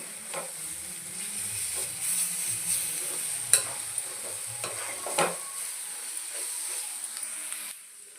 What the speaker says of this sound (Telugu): వేసుకుని బాగా కలుపుకుందామండి. కొంచెం వేగనివ్వాలి.